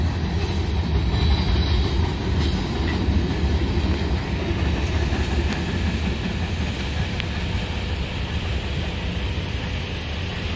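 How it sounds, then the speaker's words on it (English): A train rumbles steadily past on the tracks in Berea, Ohio, a loud continuous roar with faint rhythmic clatter of wheels and no voices. "that many trains have come through here already"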